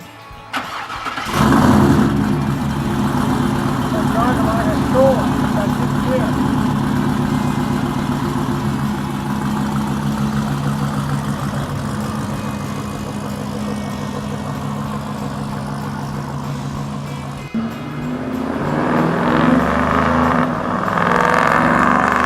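A muscle car engine cranks and fires after a moment, then runs with a steady rumbling idle for a long stretch before revving as it pulls away, loud and close, no speech.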